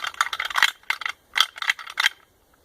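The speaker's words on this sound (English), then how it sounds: "It's just a light, what people say, tickling of the antlers." Light tickling rattle of deer antlers used to call young bucks, several short clicking, clattering bursts in an irregular rhythm, close and moderately loud with brief pauses between clusters.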